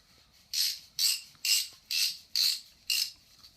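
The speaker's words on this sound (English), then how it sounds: "We're going to use the oil filter strap wrench." An oil filter strap wrench working an oil filter loose during an oil change gives six evenly spaced ratcheting bursts, each about a third of a second long, close and fairly loud, with quiet gaps between them and no talk.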